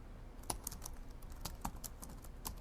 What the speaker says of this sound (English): Minokawa started typing at his laptop.